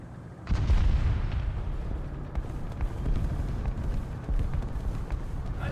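Rockets firing and exploding in War Thunder, a dense rumble of repeated low booms and pops that rolls on steadily at moderate loudness.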